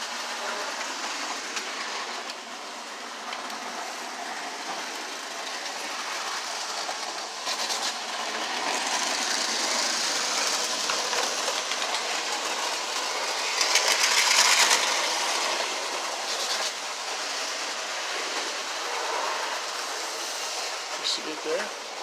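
An old Santa Fe Alco model train locomotive rolls along a layout with a continuous soft rumble and light rhythmic clicking over the track, close and steady, while someone talks.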